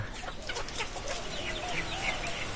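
Several chickens cluck softly in short, scattered bursts on a poultry farm, a quiet barnyard chatter heard from a little distance.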